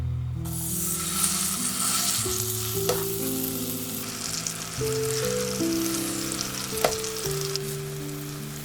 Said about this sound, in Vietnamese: mình chiên chuối với hỗn hợp bơ, caramel khoảng 1 phút